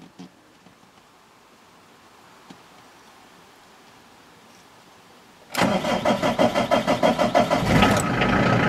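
A 2000 Renault Master 2.5D van with a doubtful battery starts after a long quiet stretch: the diesel engine catches abruptly and settles into a loud, close, rhythmically pulsing idle that runs to the end.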